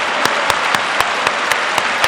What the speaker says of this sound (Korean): 다 같이 일어나 박수를 드리겠습니다